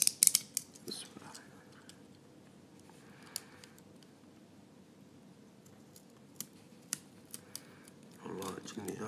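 Snips of a blade cutting the tip of an Iranian reed calligraphy pen nib, a few sharp close clicks spaced over a quiet room with faint background hiss.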